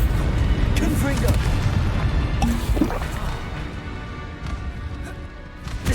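Confringo blasting curse explosion in the Hogwarts Legacy video game: a dense, rumbling blast with crackling bursts fills the start, followed by a couple of sharp impacts and a fading low roar amid spell-casting voices.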